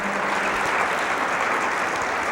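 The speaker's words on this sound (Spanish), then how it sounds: "Dale un aplauso a nuestro Señor." A church congregation applauds in a dense, continuous roar of clapping that holds level throughout, with a faint voice briefly audible beneath it at the start.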